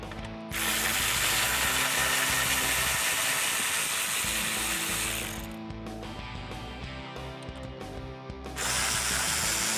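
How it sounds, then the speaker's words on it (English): A 10mm socket on a ratchet backing out grill bolts, a loud, dense stretch of rapid ratchet clicking that eases to a lighter pass and then surges again near the end. "I'll use my 10mm socket on a ratchet and pull those out"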